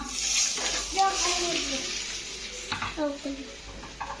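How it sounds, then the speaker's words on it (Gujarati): Hot oil sizzles steadily as bottle gourd dhokla is tempered and stirred in a pan, with a voice talking intermittently over the frying. "હાલો જો દૂધી ઢોકળા વઘારીએ છીએ."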